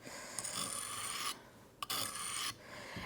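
Steady rasping strokes of a sharpener drawn along a garden pruner blade, two long continuous passes separated by brief pauses, close and fairly loud with no talking.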